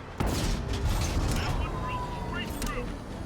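Tank cannon fire in a tank video game: one sharp, loud shot bursts out at the start, then rumbling battle noise continues under someone talking.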